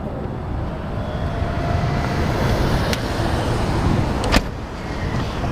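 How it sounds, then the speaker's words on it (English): A 2008 Audi S8 V10's power trunk lid closes at the touch of a button. The motor whirs steadily for several seconds, and a sharp latch click comes near the end. "You can simply close the trunk by a touch of the button."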